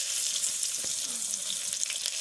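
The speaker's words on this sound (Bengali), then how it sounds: "নেড়ে চেড়ে পেঁয়াজটা ভেজে নেব" Steady frying sizzle fills the clip, a dense hiss of chopped onions cooking in hot oil with cloves, cinnamon and cumin, with faint scraping, no voices.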